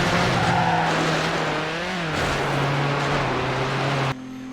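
Engine hum of a car driving on dirt in the PS2 game Need for Speed Hot Pursuit 2, with rough, gritty tire noise and a brief skid, steady and close, cutting off abruptly near the end.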